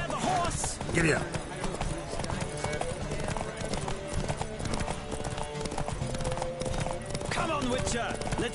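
Hooves clip-clop rapidly in a galloping horse race in The Witcher, steady rhythmic thuds close by with a brief whinny, under speech.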